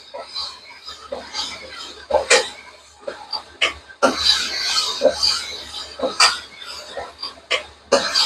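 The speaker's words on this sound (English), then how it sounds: "Just a CK10 with these roughing stones. It works very, very good." Toyota 22RE engine cylinder bore being honed with roughing stones on a CK10 hone, giving uneven scraping, rasping strokes in short bursts with sharp scrapes and pauses between them.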